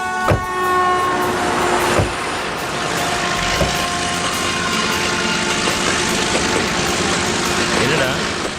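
A train runs past close to a railway track, a loud steady rumble with a horn-like tonal blast near the start and clattering wagons throughout; voices can be heard over the passing train.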